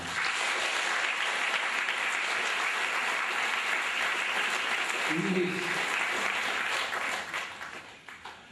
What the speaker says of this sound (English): Let us give a big clap